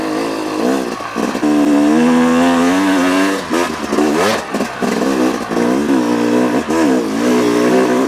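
A 2018 Yamaha YZ250X two-stroke dirt bike lugging in third gear up a hill on a trail ride, its engine droning loud and close with wavering pitch and brief throttle surges, no talk.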